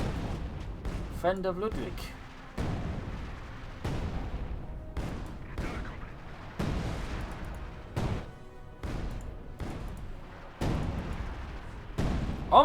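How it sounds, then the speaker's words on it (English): Assault gun barrage in Company of Heroes 2, a rapid series of sharp booming shots and explosions in irregular bursts, with someone talking over the firing. "Double assault gun barrage here versus the MD-34."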